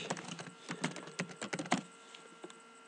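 Rapid, irregular clicks of a computer keyboard being typed on at close range, bursts of keystrokes that thin out toward the end, with no talking.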